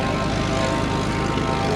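A Messerschmitt Bf 109 propeller aircraft at the RIAT airshow gives a loud, steady engine drone and propeller roar, sustained and near throughout without any break.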